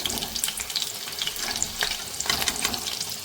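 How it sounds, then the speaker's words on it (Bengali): Chicken pakoras fry in hot oil with a steady crackling sizzle, continuous and fairly loud, with no voices. "এবার আমি একে একে বাকিগুলো ভেজে তুলে নেব"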